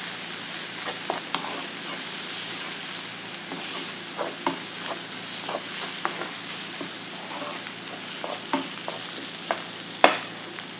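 Spices stirred into frying eggplant in a pan, with a steady loud sizzle and hiss and scattered scraping clicks of the spoon, with one sharp knock near the end.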